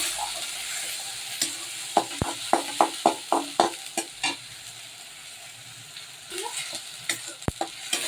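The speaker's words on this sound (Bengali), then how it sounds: "পেঁয়াজ বাটাটা দিয়ে আমি ভালো করে একটু নেড়ে নিচ্ছি" Onion paste stirred and fried in a hot wok for a fish and potato curry, a steady sizzle broken by a quick run of sharp spatula scrapes, then more scattered stirring knocks.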